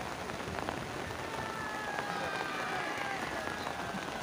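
Steady rain hisses down over an outdoor village football match, a dense even wash filling the whole stretch with faint crowd noise beneath it.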